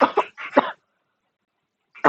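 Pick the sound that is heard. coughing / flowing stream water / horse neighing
coughing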